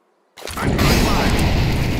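In Counter-Strike 2, a thrown fire grenade bursts. Silence breaks into a sudden, loud, close roar that holds steady as the flames spread, with no speech over it.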